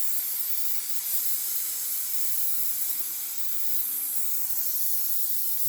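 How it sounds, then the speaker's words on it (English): A can of spray glue gives a steady, continuous aerosol hiss for several seconds at an even level, close by, with no voices, during upholstery work gluing foam to a board. "this is just a spray glue."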